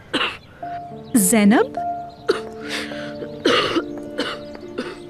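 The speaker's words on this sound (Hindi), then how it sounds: "जब से उठी है खांसी हो रही है।" A woman coughs several times in a home, harsh bursts spread across the moment over soft sustained music, with a brief spoken name among them.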